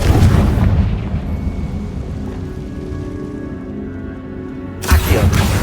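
Confrigo fire spell blast in Hogwarts Legacy: a loud, roaring burst at the start that trails into a long, low rumbling decay, then a sharp second hit near the end.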